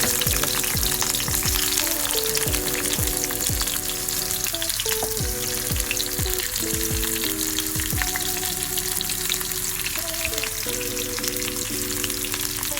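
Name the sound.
onions frying in oil for tempering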